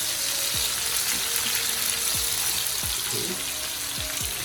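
Chopped pepper, onion, garlic, scallion and thyme sautéing in a pan for ackee and saltfish, a loud, steady sizzle over a low hum, with a person speaking briefly over it.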